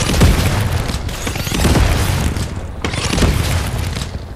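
Repeated loud boom bolt explosions in Fortnite, heavy bursts arriving in quick waves with a brief lull before a final blast, close and booming, no talking.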